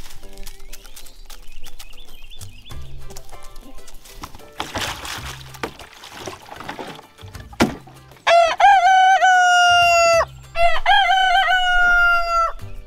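A rooster crows twice in a backyard chicken flock, each call long, loud and close, ringing out over faint background sound.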